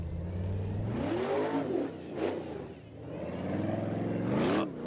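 The LS3 V8 in the Punisher 4x4 revs hard on an off-road competition course, loud and close, rising and falling in several throttle surges with gear-like pitch sweeps; no voices.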